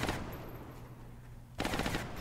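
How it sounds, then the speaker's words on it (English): Two bursts of rapid gunfire from a turn-based tactical game (Long War mod), a loud volley at the start and a second sharp burst near the end, with a quieter stretch of low rumble between. "Then you go double rapid fire."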